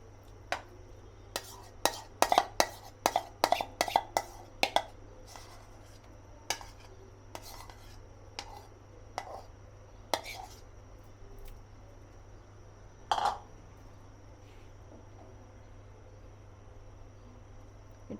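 Quiet, intermittent scraping and clinking of a spoon stirring peanut halwa of ground peanut paste, sugar and soybean oil in a pan, in short clustered strokes that thin out later, with a faint steady hum beneath.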